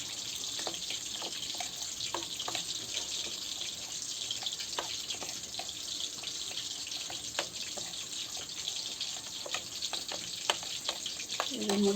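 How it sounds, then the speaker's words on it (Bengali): Rohu fish pieces frying in oil in a pan give off a steady, even sizzle with scattered small pops and crackles, close up and continuous throughout. "এই যে আমার এই মাছ কটা ভাজা হয়ে গেছে"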